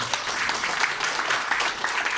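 Applause from a church congregation at a Family Blessing gathering in Jakarta: a steady, dense wash of many hands clapping at moderate loudness, continuous throughout with no talk over it.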